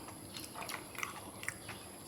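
Someone chews a grilled stuffed egg with a springy filling, soft wet munching and a few small crunchy bites, close but faint and without talk.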